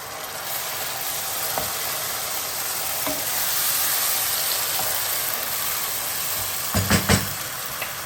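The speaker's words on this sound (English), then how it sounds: "I'm going to add our blended tomatoes." Blended tomatoes sizzle in a pot over cooked garlic and ginger for a chicken stew, a steady close hiss with a few faint knocks and a cluster of utensil clanks near the end.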